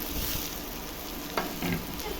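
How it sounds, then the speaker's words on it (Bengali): Onions and tomato fry in a pan, a steady close sizzle with a couple of brief scraping stirs near the end, no voices. "পেঁয়াজগুলোর সঙ্গে এখন টমেটোটাও দিয়ে দেবো,"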